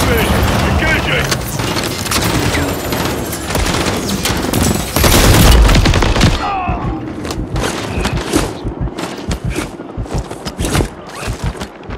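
Sustained heavy gunfire and booming blasts from a Call of Duty: Modern Warfare 3 reactor mission as troops engage a helicopter, loud and dense throughout with bursts of automatic fire, radio chatter running underneath.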